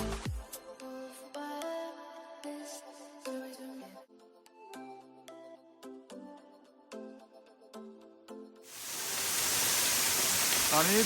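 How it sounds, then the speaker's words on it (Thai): Music plays for most of the stretch, then the Tham Son Nuea waterfall at Phu Kradueng cuts in as a loud, steady roar of rushing water that continues to the end. "มาถึงน้ำตกถ้ำสอนเหนือแล้วนะครับ โอ้ยังสวยงามเหมือนเดิม มีมีละอองน้ำปะทะหน้าด้วย"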